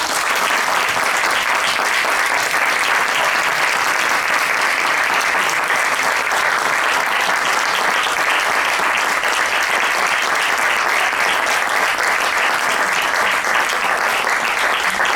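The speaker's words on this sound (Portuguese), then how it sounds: "queria pedir uma grande salva de palmas para eles" An audience at a museum panel debate applauds a donation of artworks, with loud, sustained clapping from many hands that holds steady and unbroken for about fifteen seconds.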